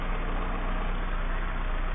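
A Citroën AX engine idles after a head gasket repair, giving a steady, even low rumble heard close by with no talking.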